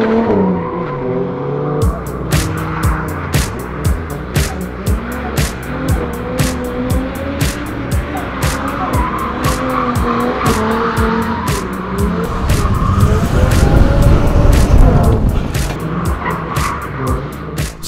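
A car drifts through its second run on a race track, the engine revving hard and the tires squealing in long skids that swell to a loud, close peak of roaring and screeching near the end.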